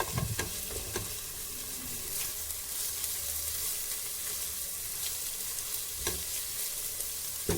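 Ginger garlic paste sizzles steadily in hot oil with onions, a continuous broadband frying hiss punctuated by several sharp stirring scrapes and clinks of a spoon against the pan.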